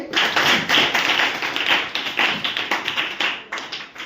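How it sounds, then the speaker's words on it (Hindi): Schoolchildren in a classroom clap for a classmate, a steady lively round of applause with rhythmic pulses lasting about four seconds, close and loud with no talking over it. "पंकज के लिए ताली बजाइए"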